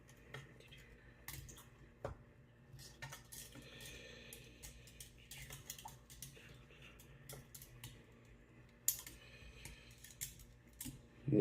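Lemon-lime wine must with Fermento yeast nutrient is stirred in a container, producing scattered faint clinks, taps and scrapes at an uneven pace, close and quiet, ending in a louder knock.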